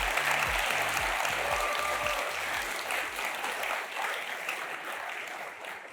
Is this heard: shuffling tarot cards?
no